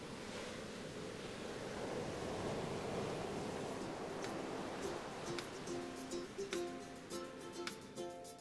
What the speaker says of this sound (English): The ocean is big, like really big, and it's in constant motion. The movement we see are called waves.